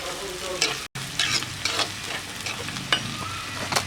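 Chopped green chillies and curry leaves frying in a hot pan, a steady soft sizzle with crackling pops and stirring scrapes, close and fairly quiet.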